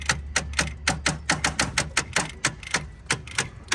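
Rapid, irregular clicking from somewhere in a long-stored barn-find Mitsubishi Eclipse, a starter or relay chattering over a steady low hum, roughly a dozen sharp ticks close by with no talk.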